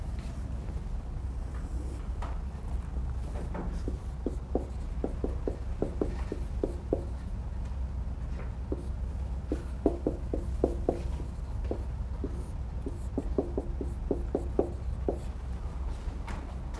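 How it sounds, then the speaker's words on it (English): Chalk or marker writing on a classroom board during an engineering lecture, repeated short taps and squeaky strokes in irregular clusters over a steady room hum, fairly faint and with no talk. "I'll write it up here on the other board"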